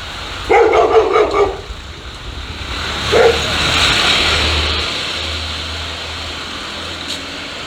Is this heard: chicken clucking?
no